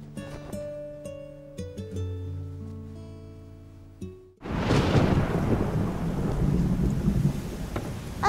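Thunder rolls in and rain starts pouring, a loud rumbling onset followed by steady heavy rainfall. Soft melodic music plays alone before it.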